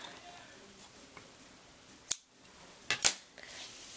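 Scissors snipping hemp string while making an anklet, with a few crisp close cuts, one on its own and then a quick pair, in a quiet room.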